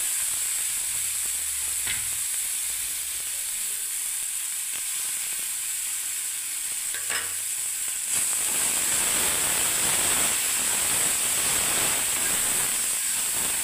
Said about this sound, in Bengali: এবার আমি এটাকে তরকাটা ঘাটতে থাকবো বন্ধুরা, নাড়তে থাকবো।